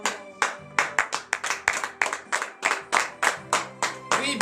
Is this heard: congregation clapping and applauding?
yes